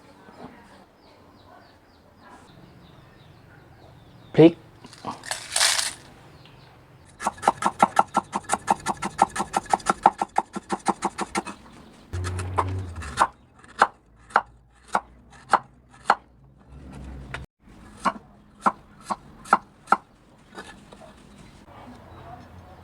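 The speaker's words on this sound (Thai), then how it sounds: "เดี๋ยวเราจะไปตำพริกแกงกันนะครับ" Curry paste pounded in a mortar for a dry-fried bird curry, a long run of rapid thuds followed by slower, steady individual pounding strokes, close and loud, with faint chicken and bird sounds in the background.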